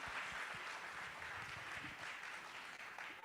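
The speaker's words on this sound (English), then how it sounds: "A big round of applause for her." Applause from an audience at a talk event with actors on stage, a continuous faint patter of clapping heard from a distance at low level throughout.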